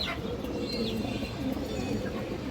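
A pair of large green-necked pigeons, a hen and a cock, coo softly and steadily amid a dense low background murmur, with a few faint chirps above.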